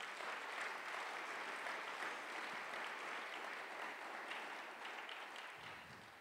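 A church congregation applauds steadily in a dense, sustained wash of clapping that holds for several seconds and then gradually tapers off toward the end.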